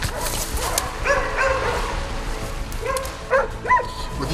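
Hunting dogs bark and yip in short bursts at a distance in a Korean wild boar hunt, a few sharp calls rising near the end over outdoor background noise.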